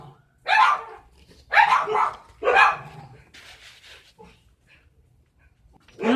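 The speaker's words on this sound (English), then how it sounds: "That dog is very annoying." A nearby dog barks three loud sharp times at an even pace, followed by quieter whining sounds and the start of another bark at the end.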